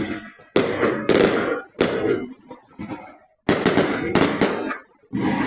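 Loud fireworks bursts go off one after another in sharp, booming explosions, some crackling as they fade, with brief quiet gaps between.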